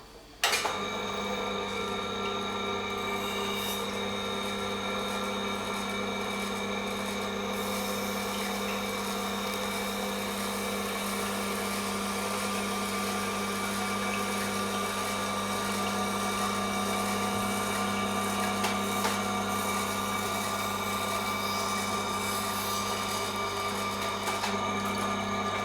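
A Tormek sharpener runs a Japanese knife in a single pass on a Japanese stone, a steady close mechanical hum and grinding drone that holds level throughout, with no talking.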